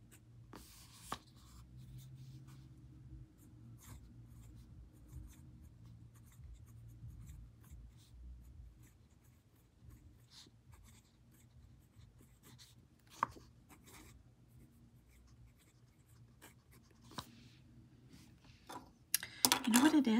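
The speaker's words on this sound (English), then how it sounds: "I've been writing on the Oasis notebook" A fountain pen writes on Oasis notebook paper. Soft, faint scratching and tapping come and go under quiet room noise, and a louder shuffle sounds near the end.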